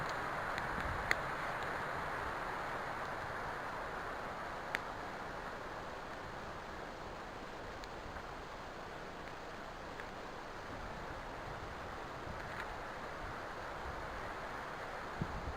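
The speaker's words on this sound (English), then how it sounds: "Crazy wind. These trees are bouncing off each other up there." Strong wind roars steadily through tall forest trees around a bushcraft shelter camp, a continuous broad rushing hiss with faint occasional knocks and creaks, no talk.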